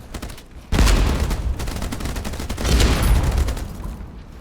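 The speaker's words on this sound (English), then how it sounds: "That thing is so dangerous, that minigun." Minigun fire from a boat in the open-world water combat game Age of Water, two loud sustained bursts of rapid gunfire with a short lull between them, no talking.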